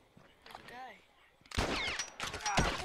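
In The Last of Us, gunfire breaks out after a brief lull, with rapid bursts of shots crackling loudly and almost continuously through the second half while voices talk over them.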